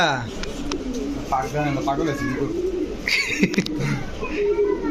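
Pigeons of fancy breeds such as Pakistani teddy, Rampuri and Lahori coo in soft throaty bursts close by, while someone talks over them throughout.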